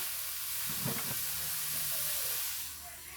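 Blended Thai curry paste and seasonings fry in hot oil for stir-fried tilapia, giving a loud, steady hissing sizzle with brief crackles, close by and continuous, easing slightly at the end.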